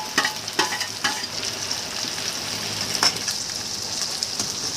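Okra pieces drop into onions frying in a pan, a few clattering knocks at the start, then a steady bright sizzle with occasional stirring scrapes, no talk.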